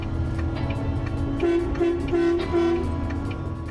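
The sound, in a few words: truck air horn honking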